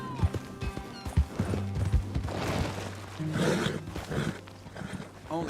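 Horse hooves clip-clop in the RedM game as a ridden horse moves along, steady rhythmic steps over a busy ambient background with occasional other sounds mixed in.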